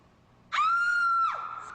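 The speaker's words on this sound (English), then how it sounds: "I just want you to scream" A woman screams loudly, a single sustained high-pitched scream lasting under a second, close and intense, breaking off abruptly into quiet room tone.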